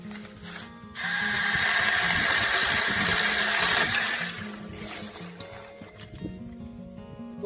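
A Saker mini electric chainsaw whines loudly through a cut of wood about 2.5 to 3 inches thick for roughly three seconds, then drops back to quieter handling noises.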